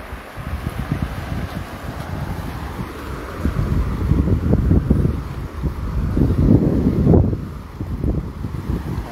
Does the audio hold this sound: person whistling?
no